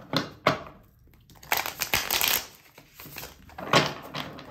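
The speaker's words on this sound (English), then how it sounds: "Okay, these are not the easiest to shuffle." Tarot cards are shuffled by hand in several crisp, papery bursts of riffling and flicking, close and moderately loud, with brief quiet gaps between them.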